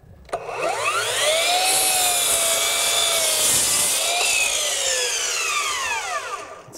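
A Bosch PROFACTOR 18V 12-inch dual-bevel glide miter saw spins up and cuts through wood at speed level 3, giving a loud, close, sustained whine that rises and falls in pitch before winding down.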